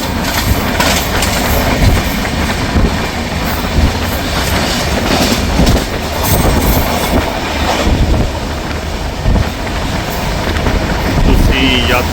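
The Sarbat Da Bhala Express passenger train, New Delhi to Lohian Khas, rumbles along the rails with rhythmic clacking and a steady loud roar, heard from inside a carriage.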